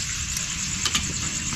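Fish caught in Palawan frying in hot oil, giving a steady close sizzle and crackle with a few louder spits, no one talking.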